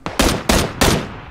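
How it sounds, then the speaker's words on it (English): Three loud, sharp gunshots in PUBG, evenly spaced about a third of a second apart and close by, each with a short decaying tail. "Still shooting at me pretty close."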